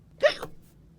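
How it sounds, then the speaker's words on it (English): A single short hiccup, a sharp close gulping catch lasting a fraction of a second, alone in quiet surroundings. "Yeah, I think you have hiccups."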